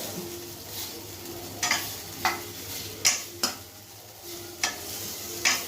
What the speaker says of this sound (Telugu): ఇప్పుడు మనం టమాటాలు వేయించుకుందాం